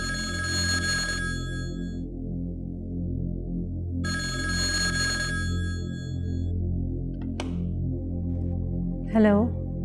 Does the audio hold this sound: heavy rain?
no